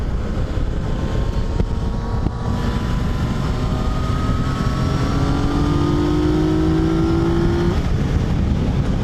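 A 2020 Yamaha Tracer 900 GT motorcycle accelerating, its engine note rising steadily in pitch through the gears over loud, continuous wind and road roar, close and constant.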